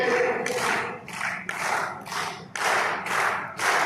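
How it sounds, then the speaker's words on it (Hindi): Audience at a Hindi comedy poetry gathering clapping together in rhythmic unison, loud bursts of clapping in a steady beat of about two per second, with no talk over it. "एक बार जरा मिलकर तालियां बजा दीजिए"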